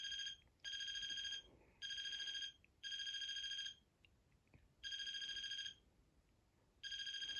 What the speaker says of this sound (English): make it stop ringing just for a second